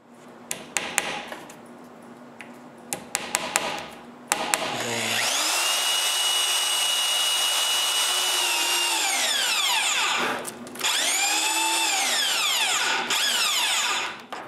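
A power drill bores mortises into a timber beam for a timber-frame truss, running in two long, loud, steady bursts that wind down between them, after some knocking and handling.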